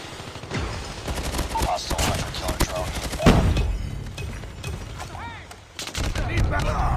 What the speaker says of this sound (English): AMEX has a very, very fast rate of fire.